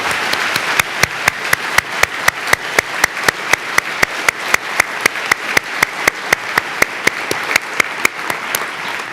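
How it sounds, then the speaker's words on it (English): Applause at a veterinary medicine white coat ceremony: a wash of crowd clapping with one loud, regular clap close to the microphone pounding out a steady beat throughout. "Please, applause for all of us."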